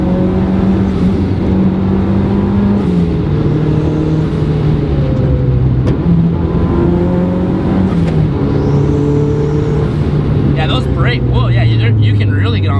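A boosted 300-horsepower Mazda Miata accelerates hard in third gear, its engine droning loud and steady from inside the car with rising pitch, while people talk over it.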